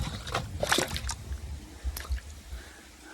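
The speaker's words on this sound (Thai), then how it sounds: "เทน้ำหดจักน้อย" Water is poured out in a short splashing burst, then scattered wet squishes and drips follow, close and fairly quiet outdoors.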